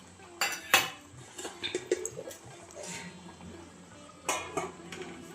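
A metal lid clanks back onto a cooking pot of mutton, with a couple of sharp clinks near the start, lighter rattles through the middle and another clink near the end, all fairly quiet.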